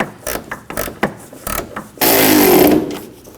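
Headlight and bumper bolts being snugged down on a 2009-17 Chevy Traverse: a run of short ratchet clicks in uneven bursts, then a longer, louder whirring tool burst near the end, close up with no speech.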